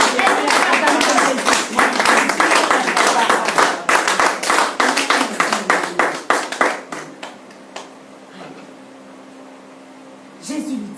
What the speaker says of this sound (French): Est-ce que tu peux acclamer ton Jésus?